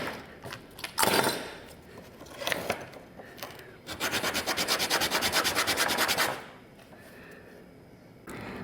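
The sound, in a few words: knife and sandpaper shaping a flat on a wooden whistle piece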